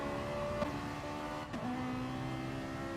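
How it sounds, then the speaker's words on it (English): A Ferrari 458 racing on the Catalunya circuit in a driving video game, its engine droning steadily with tonal whine, shifting pitch and short exhaust crackles as the throttle lifts on the overrun, continuous and fairly close. "Fire spitting from the back of the Ferrari 458 on the overrun"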